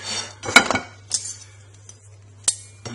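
A knife and fork work on a plate holding a blue-cooked steak, producing a few sharp metallic clinks and scrapes against the crockery, close by, with quiet gaps between them and a low background hum.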